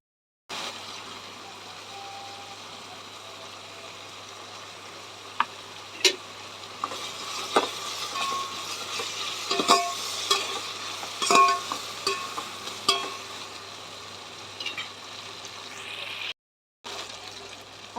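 Tomato, green chilli, onion, mint and peas frying in a pan, a low sizzle with scattered stirring clicks and scrapes growing busier midway, under a steady low hum, then a brief cut.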